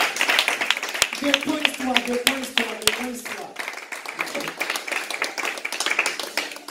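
A church congregation at a Sunday service claps rhythmically and applauds, brisk sharp claps running throughout under a preacher's voice and people talking, with a sung or spoken melodic line in the middle.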